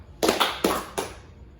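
Sharp hand claps ring out in a classroom 'tepuk' clapping game, about four crisp claps in quick uneven succession, close and fairly loud, then quiet.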